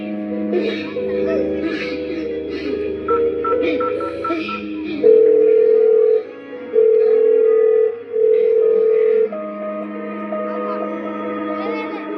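Steady telephone tone after a call is cut off, sounding in three long loud beeps separated by short gaps, with faint voices and background murmur before and after.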